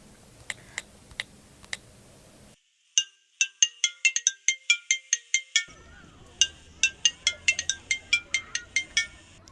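A few soft beeps, a brief silence, then an electronic phone ringtone plays a quick repeating pattern of bright tones, loud and close.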